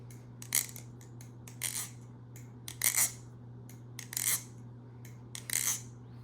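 Ice skates on LDY Orion 1.5 trainer blades scraping across a rink, with about six short hissing bursts of blade scrape for glides and stops over a steady low hum, with no talk.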